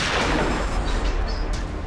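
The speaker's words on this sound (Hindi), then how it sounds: "अभी अभी गोली चलने की आवाज आई है गाड़ी के अंदर से।" A gunshot fired inside a car stopped at a police roadblock during a kidnapping and hostage standoff, heard as a loud, dense burst of gunfire with a lingering rumble that fills the short moment without any talk.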